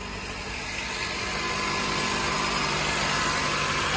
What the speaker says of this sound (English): Testing the system while the engine is on.